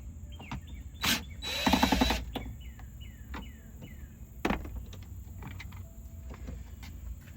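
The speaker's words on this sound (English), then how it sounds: "now we got to get the hidden screw out" A hidden screw is worked loose from the rear latch of a Land Rover Discovery 2, heard as a run of short ratcheting clicks and metallic taps with one louder buzzing burst, close and without talk.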